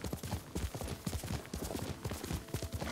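Steady clip-clop of the horse Kaga's hooves in the video game Ghost of Tsushima, a brisk rhythmic trot of hoof strikes that stays close and even for the whole stretch.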